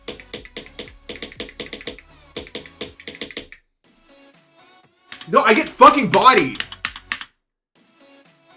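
Fingers tap quickly on a computer keyboard in clustered bursts of clicky keystrokes, pausing briefly before someone speaks, with faint typing resuming after his voice.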